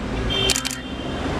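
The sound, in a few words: camera shutter firing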